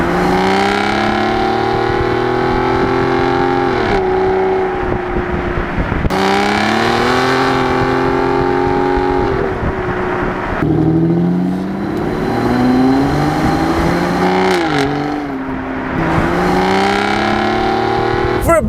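An Aston Martin DB9 grand tourer's engine sounds loud and close while driving, rising through the revs in repeated pulls and dropping sharply at each gear change, with no talking over it.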